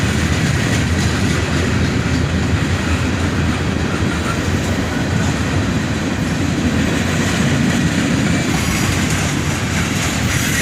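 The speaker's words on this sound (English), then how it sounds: "It was nice catching this train with all EMD locomotives" A CSX freight train hauled by EMD locomotives, including a GP38 without dynamic brakes, rolls steadily past at close range with a continuous loud rumble and clatter of covered hopper cars.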